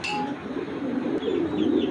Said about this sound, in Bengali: এটা হলো নেদারল্যান্ডের স্টেফেন ডনকার্ট এই লাইনের কবুতর।